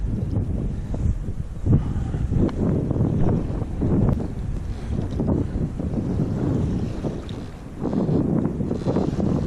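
Choppy waves slap and wash against a fishing kayak on Limeburners Lagoon, Geelong, in a constant rough rush mixed with heavy wind buffeting on the microphone, close and loud with no talk.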